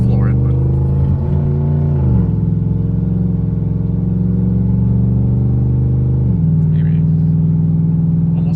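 A 2008 Ford F150 with a swapped Coyote V8 cruises at about half throttle, its steady, loud engine drone heard from inside the cab, with a couple of shifts in pitch, and someone talks over it.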